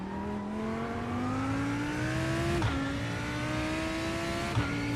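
Race car engine in the iRacing simulator at Portimao, a steady loud drone climbing in pitch through the gears, with two quick upshifts, alone without talk.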